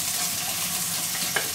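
Pork cracklings fry in a pan, a dense, continuous close-up sizzle and crackle with a faint stir near the end.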